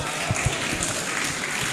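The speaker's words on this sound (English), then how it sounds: "Let's give Dr. Farombi a round of applause." An audience applauds a speaker, Dr. Farombi, with a soft, fairly distant patter of clapping that holds steady for the short duration.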